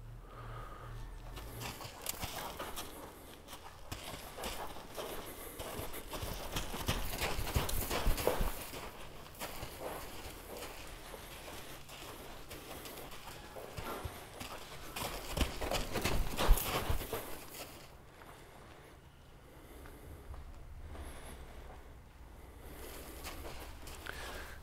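A half-blind horse moving about a round pen with irregular clip-clop hoofbeats on soft ground, fairly close, with occasional snorts and some rustling.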